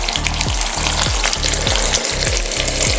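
Water splashed into hot oil while cooking a rohu fish curry (kalia) makes a loud, steady sizzle and crackle, with a low rhythmic pulsing beneath it and no voices.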